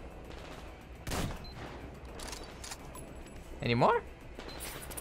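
Sniper rifle fire in the Metro Exodus video game: one sharp shot early and a second louder blast near the end, over low game ambience, with someone talking briefly.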